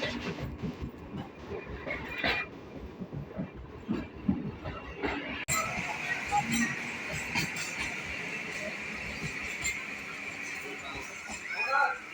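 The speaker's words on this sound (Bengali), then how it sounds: "ওটা ট্রেন ঢুকছে" A train pulls into Kolkata railway station, with rumbling wheels and clattering carriages under the murmur of a crowded platform and nearby voices.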